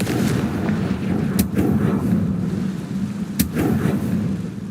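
Two sharp, booming fire-spell blasts from Hogwarts Legacy, each a sudden loud crack with a rumbling tail, about two seconds apart over a low ambient game hum.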